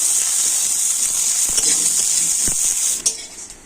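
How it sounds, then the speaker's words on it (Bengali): Onion pieces fry in hot oil with a steady bright sizzle, broken by a few sharp clinks of a utensil against the pan. "এবার ওই তেলের মধ্যে দিয়ে দিচ্ছি পেঁয়াজ।"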